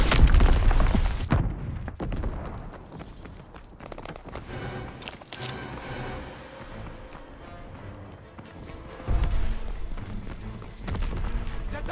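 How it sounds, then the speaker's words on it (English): Enemy mortar rounds burst during a WWII battle in Call of Duty WWII, heavy booming thuds at the start and again around the ninth second, with rumbling battle noise in between. "Enemy mortar fire incoming!"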